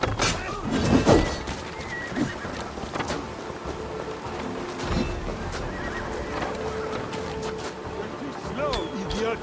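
Horses in the Assassin's Creed Valhalla video game neigh loudly near the start amid galloping hoofbeats, with thuds and game noise around them and voices speaking now and then.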